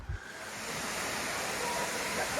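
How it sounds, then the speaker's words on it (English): Sandy Creek waterfall at Tjaynera Falls in Litchfield National Park pours with a steady broadband rush, a continuous hiss of falling water heard at moderate distance after a brief knock at the start. "So this is Sandy Creek Falls."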